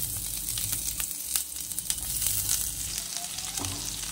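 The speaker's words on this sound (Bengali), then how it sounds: "পেঁয়াজটা দিয়ে একটু নেড়ে চেড়ে ভেজে নিতে হবে।" Chopped onion sizzling in hot oil for a Bengali doi rui fish curry, a constant close frying hiss with soft scraping as the onion is stirred in the pan.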